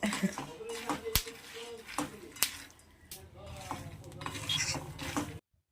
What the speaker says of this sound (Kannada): ಶೇಂಗಾ ಬೀಜ ನೋಡಿ ಈ ರೀತಿಯಾಗಿ ಫ್ರೈ ಆಗಿದೆ ಸ್ನೇಹಿತರೆ ಹುರ್ಕೊಂಡಿದ್ದೀನಿ ಚಟಪಟ ಅಂತ ಇದೆ